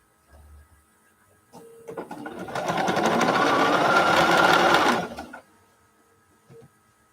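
A sewing machine stitches quilt pieces together in one steady, close, whirring run of about three and a half seconds, with quiet handling noises before and after.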